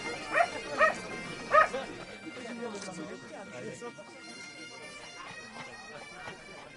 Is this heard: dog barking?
yes